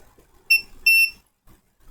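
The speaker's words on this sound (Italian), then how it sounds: "Quindi andiamo a vedere in continuità con il bip" A multimeter in continuity mode gives two sharp, clear electronic beeps, a short one and then a longer one, while its probes test a damaged chip during a repair. The room is otherwise quiet.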